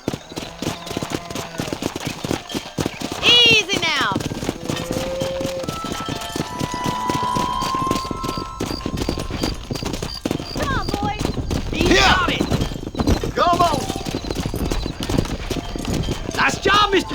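Horse hooves clip-clop in Red Dead Redemption gameplay, rhythmic hoofbeats under frequent character speech, with a whinny and other game sounds mixed in.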